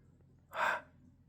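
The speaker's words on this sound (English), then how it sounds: "Why are you snoring?" A single snore from someone asleep: one short, raspy snorting breath swelling and fading within half a second, faint and close against a quiet room.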